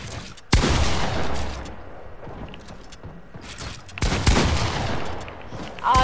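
Rapid gunfire from a weapon in the video game Fortnite, loud bursts around the start and again near the end, with quieter firing and mechanical clatter in between.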